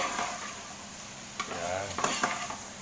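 Buttered garlic shrimp frying in a pan while being stirred, a soft steady sizzle with a few scraping and clinking utensil strokes against the pan.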